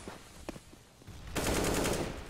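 Shots in a CS:GO match: a few quick, faint pops at first, then a loud, dense burst of gunfire that carries on to the end.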